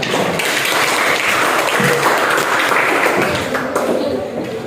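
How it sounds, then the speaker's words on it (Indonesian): Dense, sustained applause from an audience at the end of a classroom group presentation, loud and continuous throughout before tapering slightly at the close. "Berikan aplaus dulu."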